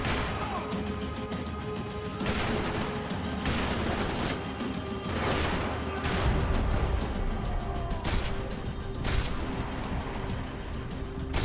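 Dense, sustained gunfire from the video game Max Payne 3, with rapid overlapping shots, crashes and impacts filling the whole stretch at a steady loud level.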